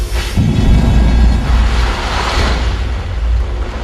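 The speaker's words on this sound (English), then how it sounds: "Pressurized gas creates an explosion that ejects the ash." Pressurized gas blasts real Mount Vesuvius volcanic ash out of a cylinder in a lab. It makes a sudden loud boom that rolls into a sustained, rumbling roar.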